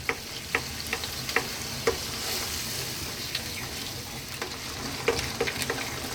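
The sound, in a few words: stirring pasta in garlic bacon tomato sauce in a pan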